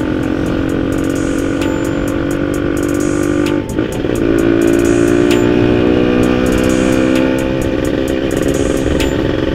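A two-stroke Kawasaki Ninja fitted with a PWK 33 carburetor and Ahau Big Ball and Cobra exhausts rides slowly in sixth gear, its engine drone steady and close with a raspy buzz and a brief dip midway.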